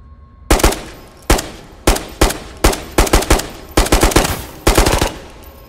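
Close, loud automatic gunfire in the shooter game Ghosts of Tabor, arriving as about eight separate rapid bursts of several shots each, separated by short gaps.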